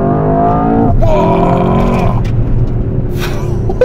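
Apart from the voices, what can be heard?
Mercedes-AMG S63 E-Performance accelerating with launch control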